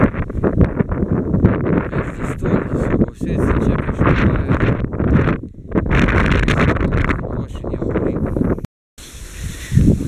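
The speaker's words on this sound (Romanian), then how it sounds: "deci bate vântul foarte tare" Strong wind in the Codru Moma mountains buffets the microphone in heavy, roaring gusts with constant rustling, nearly unbroken for the whole stretch apart from a brief drop near the end.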